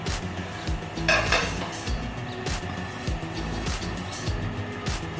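Beef goes into a large cooking pot on a stove, with steady metallic clanks and clattering of the pot and utensils close by.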